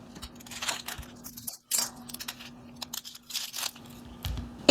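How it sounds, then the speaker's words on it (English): Papery onion skin is peeled by hand in a kitchen while making chicken soup, giving scattered dry crinkling and tearing rustles in short irregular bursts, fairly close and quiet, with a faint steady hum underneath. "Now you're going to peel your onion."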